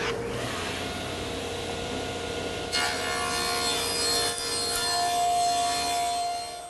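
A power saw trims a wood workpiece in a woodshop, a steady, loud whirring cut that changes pitch partway through and carries on without pause to the end.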